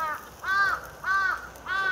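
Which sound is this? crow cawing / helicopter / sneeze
crow cawing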